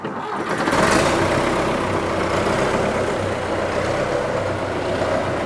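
A John Deere 450C track loader's engine turns over and settles into a loud, steady diesel running rumble up close, with no talk over it.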